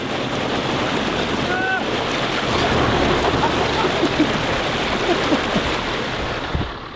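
An 80 series Land Cruiser fords a short but fairly deep river crossing in Gonarezhou park, with steady broadband water rushing and churning throughout, loud and close, with wind buffeting the microphone.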